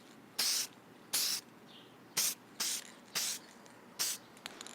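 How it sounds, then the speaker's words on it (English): Aerosol can of Armor Coat paint spraying motorcycle bar clamps on a vintage Yamaha DT175 enduro: six short hissing bursts in a steady rhythm, close and clear, with faint rattles between them. "I did forget to paint the bar clamps, so let's paint those."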